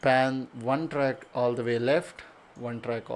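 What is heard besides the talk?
No everyday noises stand out.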